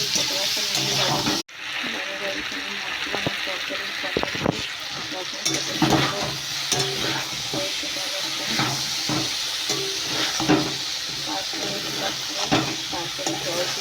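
Papaya and soybean curry stirred in a pan, a steady frying hiss with scraping stir strokes and scattered clinks throughout, a brief break near the start, and a voice talking at times over it.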